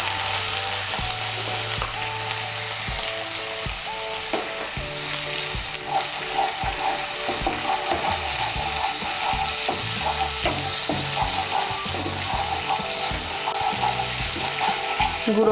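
Powdered spice paste sizzles and fries in hot oil in a pan, stirred steadily with a utensil throughout, producing a continuous close crackle with frequent scraping strokes and no voices, while cooking egg malai curry.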